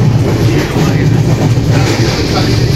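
The Kamrup Express, a long-distance passenger train running from Howrah toward Bandel Junction, rumbles steadily and loudly on the rails, heard from close by inside the moving train with continuous low clatter.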